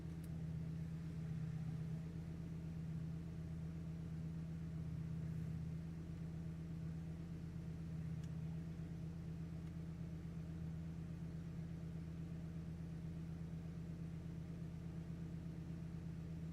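A tuned Infiniti G35 with a G35-900 turbo idles quietly and steadily, a faint constant low hum and drone running throughout with no voices.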